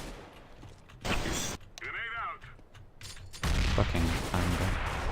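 Gunfire in the video game CS:GO, with bursts of weapon shots and mechanical clatter that build to a loud, dense volley near the end, mixed with game sounds and some voice.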